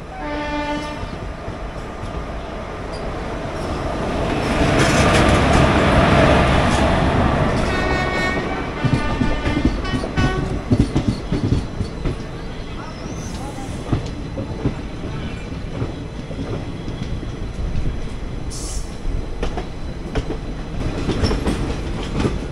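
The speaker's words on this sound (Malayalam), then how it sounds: "ഇപ്പോൾ ഈ ലൈൻ വഴി വന്നിട്ട് റിവേഴ്സ് ചെയ്തൊരു ട്രെയിൻ നമ്മളിപ്പോൾ ക്രോസ് ചെയ്യും, പുതുച്ചേരി മംഗലാപുരം എക്സ്പ്രസ്" The Puducherry–Mangalore Express rumbles past on the crossing track near Villupuram Junction. Its sustained horn blares loud and close, and the rolling clatter of wheels over the rails continues steadily after the horn fades.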